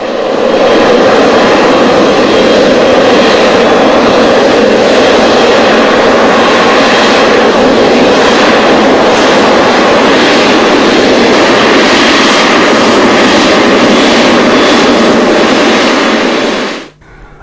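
Boeing 777 freighter jet at an airport, its engines roaring as a loud, steady, broadband rush that holds unbroken for the whole stretch before cutting off abruptly at the end.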